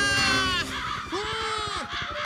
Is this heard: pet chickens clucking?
no